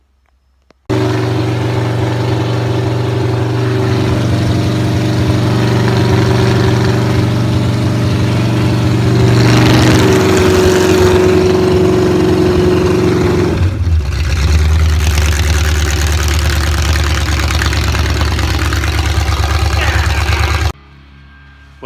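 A V8 engine on a test stand runs loud and close for about twenty seconds, a thick steady idle with a brief rise in revs, then cuts off abruptly into silence.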